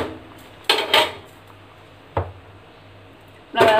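A few metallic clanks and knocks as a tin is set under a cooking pot on the stove, brief close clatters separated by quiet pauses.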